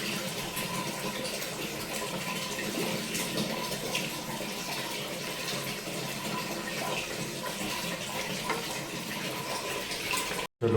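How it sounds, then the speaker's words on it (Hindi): Hot water from a geyser-fed tap runs in a steady, hissing gush for about ten seconds, close by, then cuts off abruptly. "चलो अब आया है गर्म पानी,"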